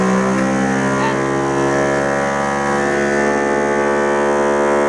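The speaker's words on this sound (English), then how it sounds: "click the vacuum button." Vacuum pump of a mini OCA laminating machine running steadily while an iPhone 6 Plus polarizer is laminated onto the LCD, a constant close tonal hum with no pauses and no speech.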